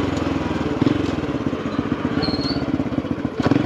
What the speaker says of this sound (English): I know you guys hear me revving up the throttle when I come to a stop